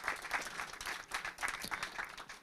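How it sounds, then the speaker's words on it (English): Applause from an audience at a security conference talk on AI pentesting, a fairly faint, uneven patter of clapping rising and falling in bursts. "I think it deserves a round of applause, the Ethiack, don't you think?"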